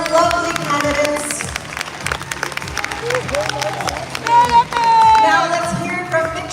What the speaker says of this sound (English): Big round of applause to our lovely candidates.